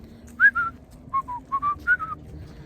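Whistled tune, a short clear melodic phrase of several rising and falling notes, close and alone over faint background.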